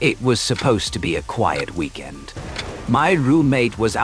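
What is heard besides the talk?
No distinct noise like a dog, phone or traffic.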